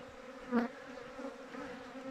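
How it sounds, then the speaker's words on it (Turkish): Honey bees buzz steadily in a low drone at a hive, with one louder pass close by near the start. "Arılar hala salkımda çünkü kapalı alan soğuk diye zaten."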